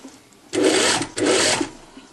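A domestic sewing machine runs two short stitching bursts, each about half a second, hemming the edge of a blouse; the whirring rattle stops briefly between bursts, and there is no talk over it.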